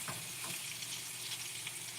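Beef bacon frying in a pan gives a soft, steady sizzle heard at low level, with a couple of faint stirring scrapes near the start and no talking.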